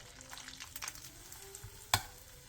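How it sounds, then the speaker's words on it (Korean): Beaten egg mixed with chives, minced garlic and salt poured into an oiled pan, a quiet close sizzle and light frying crackle with one sharp click of a utensil partway through. "팬에 기름을 두른 뒤 계란물을 조금 부어 넓게 펼쳐주세요."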